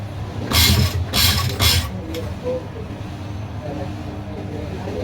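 Sewing machine stitching lace onto an angrakha neckline, with three short bursts of rapid mechanical running close by, then the motor stops and only a quiet background remains.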